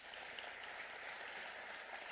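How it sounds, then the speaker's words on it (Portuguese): A crowd applauds steadily at a business luncheon in Cachoeira, a dense, even wash of clapping hands that holds at full strength for about two seconds with no voices over it. "Por favor, podem bater palma."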